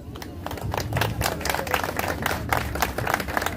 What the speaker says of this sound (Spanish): Fuerte, pero fuerte el aplauso.